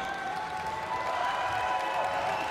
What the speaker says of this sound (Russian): Аплодисменты от болельщиков.